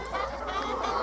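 Hens clucking together inside a hen house, a dense, close chorus of overlapping clucks and murmurs.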